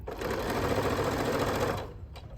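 A sewing machine stitches a fabric seam with its needle in a steady, fast mechanical whir that runs close and loud for about two seconds, then stops abruptly.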